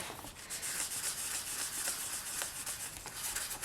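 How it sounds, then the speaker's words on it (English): Sandpaper rubs over a polymer clay bowl in steady back-and-forth strokes, a close, continuous dry scratchy hiss that pulses slightly with each pass. "just going to give it a nice sand to smooth out any fingerprints, get rid of any smudges that we might have"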